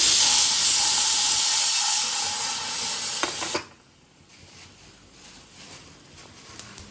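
Peanuts and sesame seeds frying in a tray give a loud, steady hiss for about three and a half seconds, then it cuts off, leaving a quiet background with a couple of faint taps.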